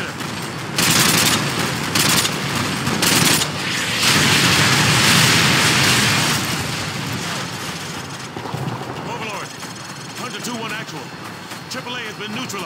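Heavy artillery barrage from Call of Duty Modern Warfare 2 pounds enemy vehicles, loud rapid bursts and booming impacts rolling into a sustained roar that fades into rumbling, with a voice speaking over it.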